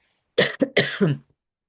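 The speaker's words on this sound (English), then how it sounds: "apologies for the coughing" A short burst of harsh coughing, three or four rough coughs in quick succession, close and fairly loud, then silence.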